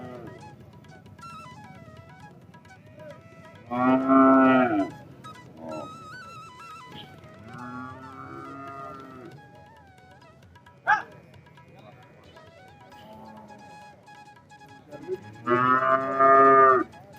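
Buffaloes and cows low at a cattle market, with two long, loud moos near the start and end and softer calls between, over a quiet background with some faint voices.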